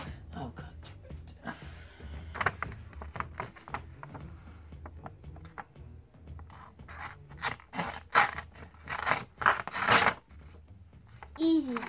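A kitchen knife slicing through paper or cardboard packaging, giving a run of short rasping scrapes and crisp tearing strokes of varying loudness, close by, with a few bursts of talk and movement around them.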